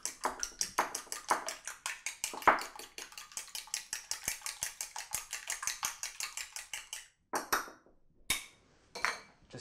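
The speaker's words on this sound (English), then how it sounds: "Just beat your eggs." Eggs beaten in a bowl with a utensil, a fast, even run of close clinking taps that stops, then a few scattered clicks after a pause.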